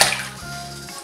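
Water sloshes and drips around a giant water-grown toy frog in a tub, a short close splashing burst that starts loud and settles into steady dripping and trickling.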